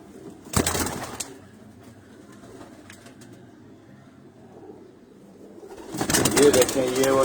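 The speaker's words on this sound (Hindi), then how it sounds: "इस तरह ये भी हरे कबूतर हैं।" Green pigeons on a rooftop coo softly, with a brief burst of flapping or rustling near the start and a louder stretch at the end. A voice talks at moments.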